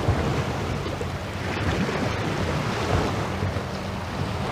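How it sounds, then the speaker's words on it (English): Sea water washes and sloshes against the shore of the Isle of Wight in a continuous, rolling surge, the wash stirred up by passing boats, mixed with wind buffeting the microphone. No voices. "Some of this wash here is from boats that are roaring up and down."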